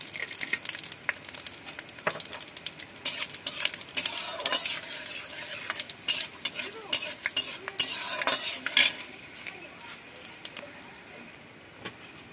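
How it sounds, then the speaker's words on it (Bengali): Bay leaves, dry red chilies and panch phoron tempering in hot oil in a pan, a close continuous sizzle broken by repeated sharp spoon scrapes and clatters against the metal. "আমি এখানে তেজপাতা, শুকনো লঙ্কা আর পাঁচফোড়ন ফোড়ন দিলাম।"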